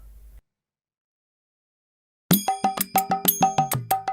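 A phone ringing alone after a silent pause, a series of bright, evenly spaced ringtone chimes with quick decays repeating in a steady rhythm.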